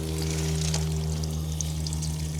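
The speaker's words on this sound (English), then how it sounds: "I want to run water through this hose for a little bit." Water rushing steadily through a garden hose being flushed out before use with a CLM 4 water filter, a continuous close hiss and splash over a constant low mechanical hum, with no talking.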